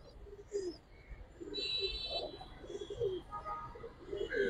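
Pigeons cooing softly in a loft with other birds chirping, low and somewhat distant over a steady background murmur, no talking.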